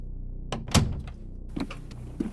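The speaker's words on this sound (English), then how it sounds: "Swinging the door open with gusto" A door swings open with a firm thunk and a rattle of the handle, followed by a couple of softer knocks and shuffling in a quiet room.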